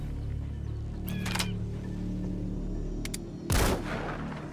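Gunfire in the video game Metal Gear Solid 5: The Phantom Pain, with a few short sharp shots over a steady low game background hum, ending in a louder booming burst.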